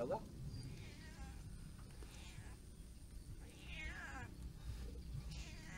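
A cat meows a few times at a rural fishing spot beside a field, with faint, thin cries rising over steady outdoor background noise and insect buzz.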